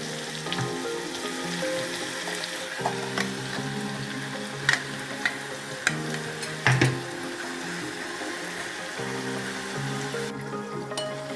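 Ground red chili thecha frying in hot oil with cumin and asafoetida, a steady close sizzle with occasional sharp clinks and scrapes of a spatula against the pan.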